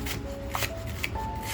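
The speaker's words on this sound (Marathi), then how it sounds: "मी फक्त अर्ध्या कांद्याचा वापर करते आणि अगदी बारीक कापून घेणार आहे" Half an onion being finely chopped with a knife on a board, a quick run of light, crisp cutting taps close by with no talk.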